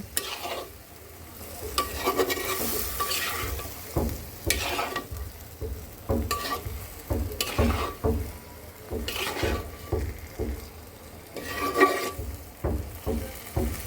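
A curry of taro stolons with prawns and jackfruit seeds being stirred in a frying pan, with steady sizzling and repeated scraping and clinking strokes of the spoon against the pan, close and continuous with no talking.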